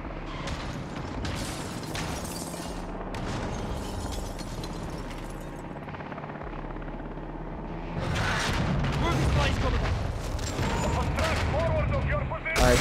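Video game explosions and gunfire make a dense, continuous barrage of booms and shots that grows louder and harsher partway through, with no talking over it.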